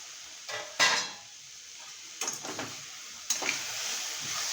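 Pot lid lifted off radish and chana dal sabji cooking on the stove, with a couple of clattering metal clinks and a faint sizzle of the frying vegetables underneath.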